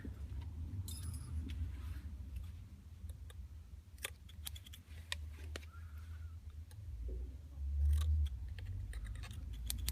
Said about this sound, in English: I'll just neaten that up with the scissors